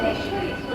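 Interior of a moving local train at night, a continuous low rumble and rattle of the carriage running on the rails, fairly close and even.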